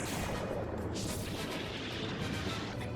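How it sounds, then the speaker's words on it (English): A cannon fired in the One Piece anime, a dense rumbling blast that hangs as a sustained roar with a brief bright burst partway through, loud and continuous. "Zoro then points the cannon at them and lights it up"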